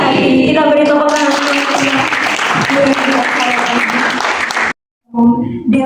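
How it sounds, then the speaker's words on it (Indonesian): A crowd at the installation ceremony for the PERADI SAI Manado branch officials claps loudly and steadily, with voices and tonal sound mixed in. The applause breaks off briefly near the end before the voices resume. "Kita beri tepuk tangan."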